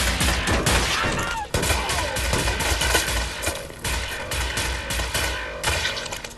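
Dense, loud gunfire from Wolfenstein: The New Order, with rapid overlapping bursts and shots filling the whole stretch alongside game action and crashing noise, and no talk.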